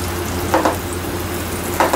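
Chana dal mixture roasting in a pan, with a steady low sizzle and two brief scraping stirs of a spoon against the pan.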